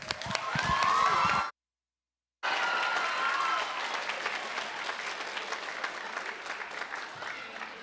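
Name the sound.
audience applause for panelists and cast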